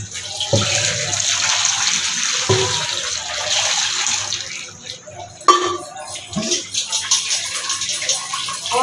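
Cold water pours over hot boiled vermicelli in a kitchen, a steady rushing splash with a few sharper bursts as the stream shifts, fairly close and continuous throughout.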